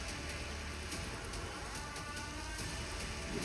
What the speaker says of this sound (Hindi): भारी बारिश के बाद स्कूल की छत में बने होल से क्लासरूम के अंदर कैसे पानी गिर रहा है